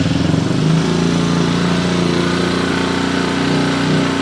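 A Hawk 250 motorcycle engine fitted with a NIBBI carburetor runs loud and close, a steady buzzing idle with slight rhythmic pulsing and no talk.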